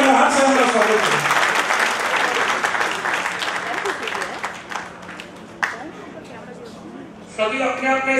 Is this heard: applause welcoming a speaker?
yes